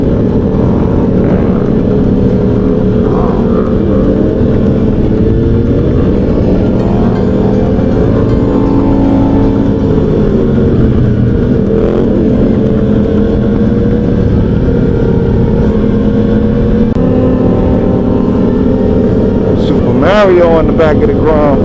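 A Yamaha MT motorcycle on a Miami street stunt ride revs and accelerates close by, a loud continuous engine drone rising and falling in pitch, with a burst of sharper noises near the end.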